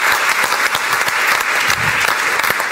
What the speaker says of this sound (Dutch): Dus daar een hartelijk applaus voor